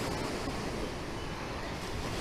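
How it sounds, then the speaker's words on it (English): Ocean surf on Maui rolls in a dense, steady wash of breaking waves, close and broadband, with a touch of wind and no voices. "listening to the sound of the ocean"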